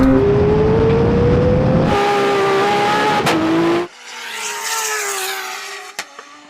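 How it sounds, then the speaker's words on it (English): A McLaren Senna drag racing a 1200 HP Lexus drift car, with loud, close engines screaming through rising gear pulls and tire squeal, then passing and fading away. "The McLaren hooks up perfectly. The Lexus struggles with wheel spin."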